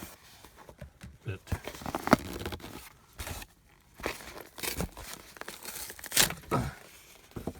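Paper being torn in several quick ripping bursts, close and crisp, with soft crinkling and handling noises between the tears.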